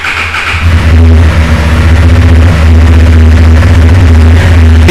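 Honda XL750 Transalp motorcycle with a dual exit exhaust, its engine running loud and close with a steady low throb and slight revving swells throughout, no talking.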